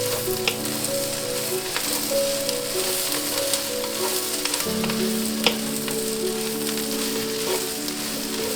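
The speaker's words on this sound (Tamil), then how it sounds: "வெங்காயமும் பூண்டும் நல்லா வதங்கின பிறகு நல்லா வதங்கிடுச்சு" Brinjal, onion and garlic sautéing in oil in a pan, a steady soft sizzle with occasional crackles and stirring scrapes, close and fairly quiet with no talk.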